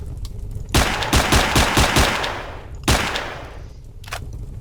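Automatic gunfire from a weapon in the video game Dead Hospital: a loud, rapid burst of shots followed by a second shorter volley, each trailing off into echo.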